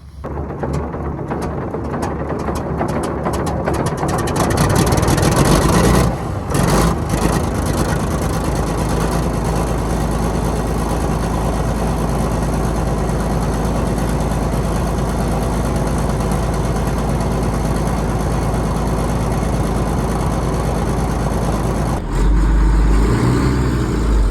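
An old 8640 farm tractor engine on a dairy farm starts up and runs with a loud, deep, steady diesel roar that rises as it revs, close by, with no talking.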